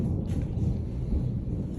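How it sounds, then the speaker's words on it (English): Thunder during a storm in Melbourne rolls as a deep, continuous low rumble, fairly distant and steady for the whole brief moment. "You hear the thunder in the background."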